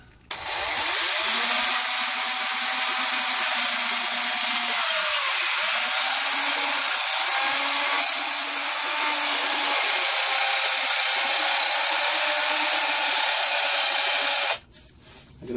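A Black & Decker Matrix 4-inch circular saw cuts through rigid styrofoam insulation board inside a van with a loud, continuous motor whine whose pitch wavers under load for about fourteen seconds, then stops sharply.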